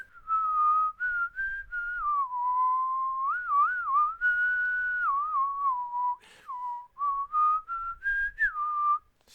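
A person whistles a wavering melody alone, with a steady tone that slides up and down through short phrases and brief breaths between them, close and clear.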